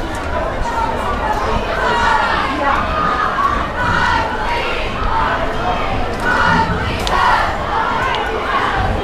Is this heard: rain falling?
no